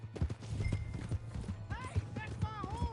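Horse hooves clip-clop in a steady rhythm in Red Dead Redemption 2, close and mid-loud, with in-game voices talking and shouting over the hoofbeats.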